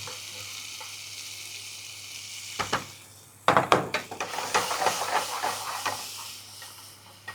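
Chopped tomatoes tipped into a hot pan of cooking masala in a culinary training kitchen set off a loud hiss and sizzle that rises sharply, then crackles and settles into steady frying, with no one talking.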